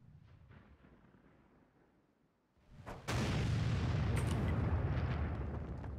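An artillery gun firing in the World of Tanks game, a quiet rumbling lull broken by a sudden loud blast that rolls into a sustained heavy roar and crackle, no talk.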